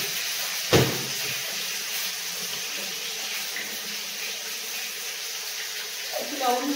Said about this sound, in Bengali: এটা এখন এই তেলে ভেজে নেব